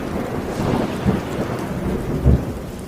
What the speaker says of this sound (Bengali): বিকট শব্দে আর একটা বাজ পড়ল